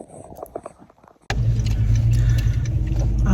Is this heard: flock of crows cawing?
no